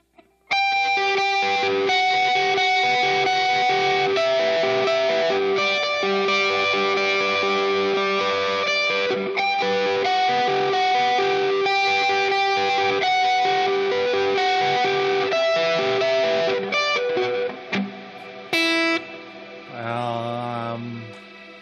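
Electric guitar driven through a Tube Screamer distortion pedal, playing sustained, thick chords loudly and steadily for most of the passage before thinning out and fading into sparser notes near the end.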